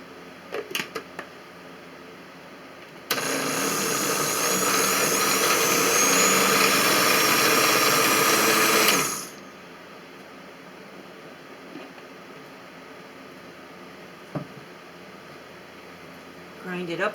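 Kitchen machine grinding cooked radish tops for soup, one loud steady whir lasting about six seconds, with quieter clinks and handling before and after.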